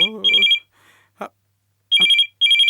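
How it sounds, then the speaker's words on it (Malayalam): A phone rings in short electronic trilling bursts, loud and close, with pauses between rings and a brief voice sound in the gap. "ഫോണ് ബെല്ല് കേട്ടോ, അറിഞ്ഞൂടെ എനിക്ക് തന്നെ"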